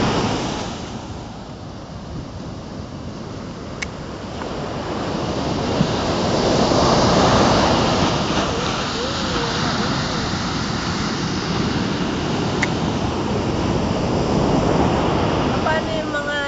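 Sea waves break and surge along a shore, a loud continuous roar swelling and easing with wind buffeting the microphone, while voices talk over it.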